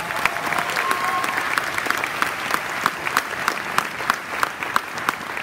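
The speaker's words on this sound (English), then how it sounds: "Let's give him another round of applause." A concert audience at a 2022 children's choir Christmas concert applauds steadily for a school performing arts program, a sustained wash of many hands with sharper individual claps popping out throughout.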